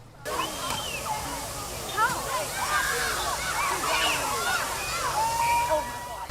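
Water splashes and sloshes continuously at an outdoor fire department splash day for children, a steady rushing spray mixed with excited voices and shouts of kids at play.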